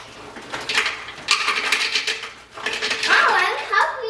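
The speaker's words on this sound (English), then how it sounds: "put some frozen blueberries in the blender" Frozen blueberries tumble into a blender jar, a run of close, bright rattling clicks and clatters of hard berries hitting plastic, in bursts with brief pauses, while voices speak softly alongside.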